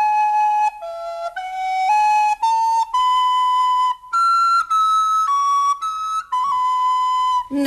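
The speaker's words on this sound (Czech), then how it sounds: "Nech už toho pískání" A person whistles a simple tune alone, clear and close, in a series of sustained, sliding notes with short breaths between phrases.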